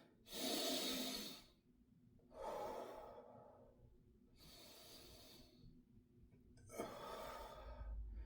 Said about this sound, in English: we're going to do 4 big breaths